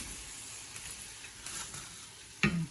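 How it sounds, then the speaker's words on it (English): Onions and peppers frying in a pan for a crustless quiche, a soft, steady sizzle at low level, ending in a sudden sharp clatter near the end. "So the first thing I'm going to do is fry up the onions and peppers."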